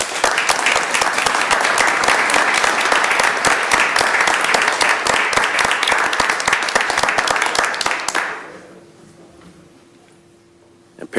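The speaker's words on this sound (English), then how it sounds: "Let's give them a round of applause." Audience applause at a school board of education meeting for young award recipients: dense, steady clapping from a crowd for about eight seconds, then fading quickly into near silence.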